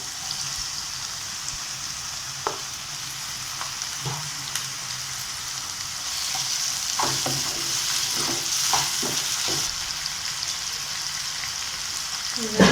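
Tomatoes, curry leaves and green chillies sautéing in a pan for kothu bread, a soft continuous sizzle with intermittent spoon clinks and stirring scrapes that grow busier midway, close and without voices.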